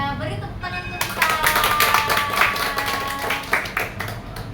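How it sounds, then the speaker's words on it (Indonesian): A small group in a classroom counseling session claps hands together, a brisk burst of overlapping claps after a moment of quiet, with voices mixed in underneath. "maka kita beri tepuk tangan untuk kita."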